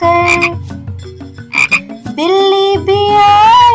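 Cartoon frog croaking in a children's nursery rhyme, loud and repeated, with a run of bright croaks that rise into a long, ringing, tonal call.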